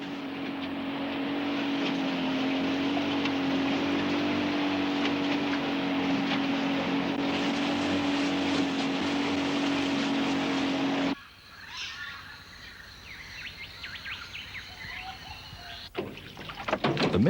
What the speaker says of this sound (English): The gregarious and playful dolphins race Malcolm's boat back across King Sound